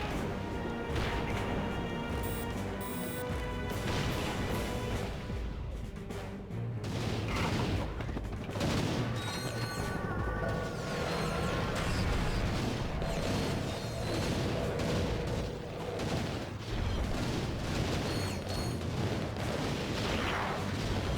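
Rapid gunfire and blaster shots from Ratchet and Clank 3 at the Crash Site, aimed at jetpack troopers, crack and thump continuously over a busy, loud game soundscape of explosions and impacts.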